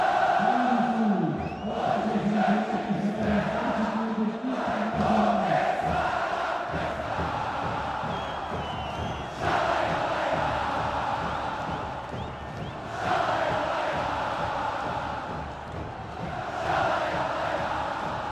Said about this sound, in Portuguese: Olha a torcida cantando.